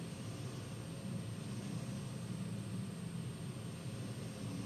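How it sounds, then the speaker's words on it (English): WWII-era U.S. search planes flying out during the Battle of Midway, heard on an old film soundtrack: a faint, steady propeller-engine drone with hiss and a constant high tone, continuous and even, without talk. "These lumbering U.S. search planes were quickly sent out in all directions"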